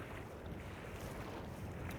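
Wind rushes and buffets across the microphone in a steady low roar during a winter storm while fishing, with no voices.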